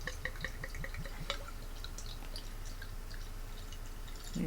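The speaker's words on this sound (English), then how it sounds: "let's give this guy a pour." Picaroons Maple Cream beer from 2017 is poured into a glass, making a quiet, steady trickle with a few faint drips and splashes close by and no talking.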